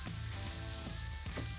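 Onions for a vegan chickpea tagine fry and caramelise in a pan with a dense, continuous sizzle up close, with faint rhythmic clinks of stirring underneath.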